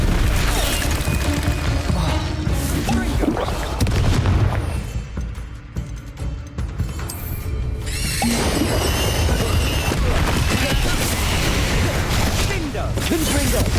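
Spell blasts from the video game Hogwarts Legacy, with loud booming explosions and crashing bursts packed densely throughout, easing briefly in the middle before surging back at full force.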